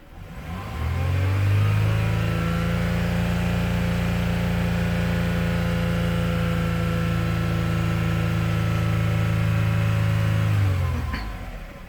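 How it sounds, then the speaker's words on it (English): A Toyota Alphard or Estima engine rises from idle into a sustained rev, holding a steady droning pitch for several seconds before dropping back down. "if I rev the engine"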